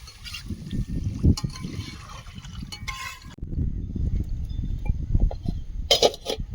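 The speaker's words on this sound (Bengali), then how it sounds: "লঙ্কা মশলা থেকে তেল ছেড়েছে এবার জল দিয়ে দেব" Water is poured into a pan of chili spices fried in oil for a Bengali dhokar dalna, with sizzling and bubbling crackles close up, rising and falling in intensity.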